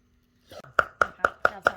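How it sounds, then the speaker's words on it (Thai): Knife chopping meat for larb on a board: five sharp, evenly spaced chops, close and loud, following a few softer cuts. "เดี๋ยวอันนี้หั่นแล้วเราจะสับครับสับสับ"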